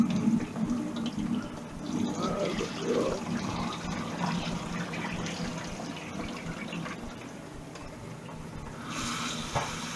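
Running tap water splashing and trickling over vegetables in a sink, a continuous wet rush with shifting tones.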